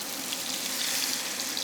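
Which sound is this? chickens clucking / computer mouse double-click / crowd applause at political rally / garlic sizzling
garlic sizzling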